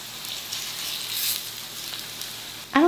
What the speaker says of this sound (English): And then I'm going to take corn tortilla and put it in the oil.